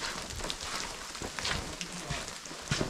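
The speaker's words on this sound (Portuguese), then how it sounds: "Thiago, nós já estamos andando na chuva." Rain comes down on a walk at Ibitipoca, Brazil, with close, irregular pattering of drops over a soft steady wash that rises and falls throughout.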